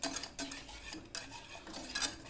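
A spoon scrapes and clinks against a pot while melting raw chocolate into a simmering mix of sugar, milk and hazelnut instant coffee for homemade Nutella; the stirring runs in quick, repeated, close-up scrapes.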